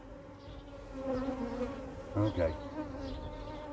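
Honey bees buzzing around a hive in a UK apiary during feeding, a steady close hum with individual bees droning past, while a person briefly speaks.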